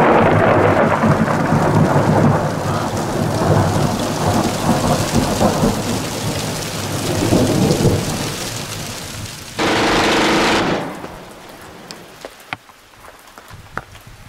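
Heavy rain pours steadily during a thunderstorm in the Authion massif while deep thunder rumbles, swelling into a loud crash before the downpour eases to scattered drips.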